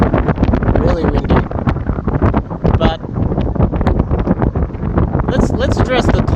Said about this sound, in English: whoa, it's windy. It's literally blowing the phone.